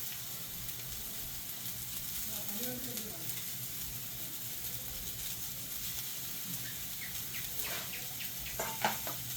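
Soft sizzling and occasional scraping as coriander leaves are stirred into frying biryani masala for fried chicken biryani, cooked outdoors in a village setting; quiet and steady, with faint birdsong and a few sharper stirring clicks near the end.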